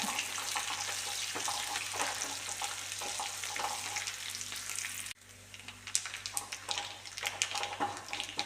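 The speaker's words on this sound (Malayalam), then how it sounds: "നമ്മൾ വെളുത്തുള്ളിയും ചെറിയ ഉള്ളിയെല്ലാം നന്നായി മൂത്ത് വന്നിട്ടുണ്ട്." Garlic and small onions fry in hot oil in a pan. A loud, close, continuous sizzle drops briefly partway through, then returns with rougher crackling and stirring scrapes.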